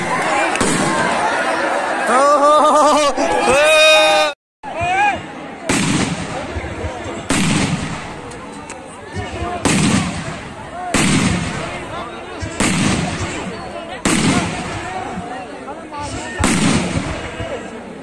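Firecrackers and bombs go off at a village Saraswati Puja celebration in Jaipura, sharp loud bangs repeating roughly every second or two, with crowd chatter and whistling fuses between the blasts.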